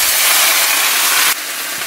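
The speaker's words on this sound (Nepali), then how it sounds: "अब यसमा हामी साग राख्छौँ।" Leafy greens hitting hot oil that already holds cumin, ajwain and browned garlic, a loud rushing sizzle that drops abruptly to a quieter steady hiss.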